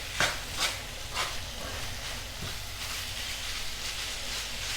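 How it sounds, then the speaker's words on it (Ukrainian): Minced meat is stirred together with sautéed vegetables in a pan for lasagna, a soft scraping sound with a few distinct scrapes at the start over a faint background sizzle, close and quiet. "Головне зараз на даному етапі гарненько його перемішати з зажарочкою."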